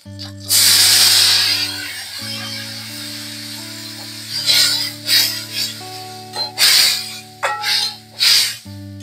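Water is poured into a hot pan of pabda fish with brinjal and spiced gravy. It gives a loud burst of hissing spatter, then shorter bubbling hisses return in bursts over steady background tones.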